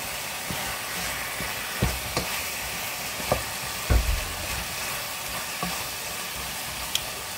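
Mustard is stirred into a simmering braised beef sauce, a steady soft sizzle with periodic scraping knocks of the spoon against the pot, close and even, with no voices.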